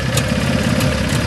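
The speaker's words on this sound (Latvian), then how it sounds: "Mocis rūs." Motorcycle engine running steadily at close range, a continuous loud rumbling drone with no talk over it.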